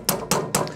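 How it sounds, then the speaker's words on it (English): Scissors are used as a makeshift hammer to drive a part into a pro scooter during a custom build, giving four sharp, evenly spaced knocks in under a second, close and loud. "Sometimes you gotta use scissors as a hammer."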